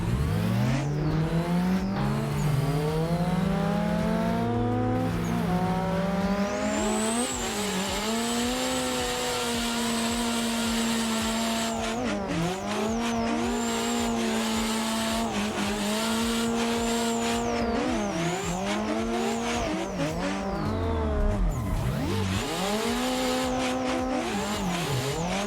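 Street and pro drift cars scream through Assetto Corsa corners, engines revving high and swooping up and down with each gear change while tires squeal and skid throughout, loud and continuous with no talking.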